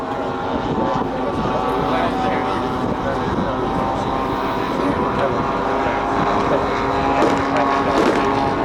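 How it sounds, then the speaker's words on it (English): Large model aircraft fly at an RAF Cosford air show, a steady droning propeller-engine hum from overhead under a public-address voice. "these fabulous aeroplanes being flown by the top pilots of the Large Model Association"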